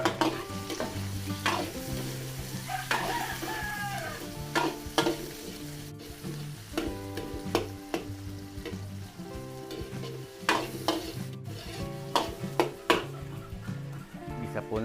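Onions sautéing in a pan for Filipino fiesta cooking, a steady close sizzle and frying crackle with repeated scraping and stirring strokes of a utensil against the pan, continuous throughout with no talking.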